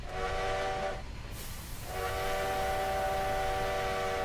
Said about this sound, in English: There's the bells. You can hear that now.